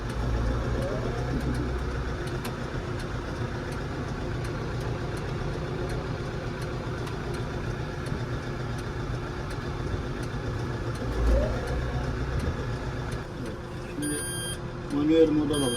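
A steady, low Landini 5-120rs tractor engine rumble idles throughout, with a faint ticking and a few electronic beeps near the end.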